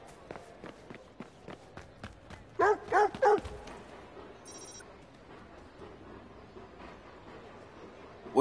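A dog barks in the video game Watch Dogs 2, a quick cluster of three or four sharp barks over steady, light footsteps, with a faint electronic chime afterward and no talking.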